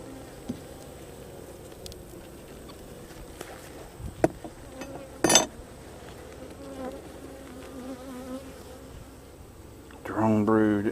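Steady buzzing of many honeybees close by during a top-bar hive inspection, with a few sharp taps and knocks, and a brief voice near the end.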